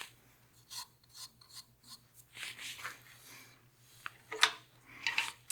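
A turned wooden block is sanded on a lathe, giving intermittent raspy rubbing strokes of varying loudness over a faint steady hum, with no speech.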